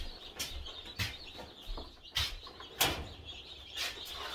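Chickens peck at feed scattered on a floor, giving a run of sharp close taps and clicks at irregular intervals, with soft clucks in between.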